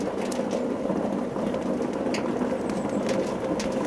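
Water boiling at a steady roil inside a metal barrel-type can, a continuous bubbling hiss with no pauses.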